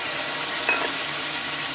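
Water poured into spinach kofta curry spices in a hot pan raises a steady, close sizzle with one brief splash-like burst partway through; no voices.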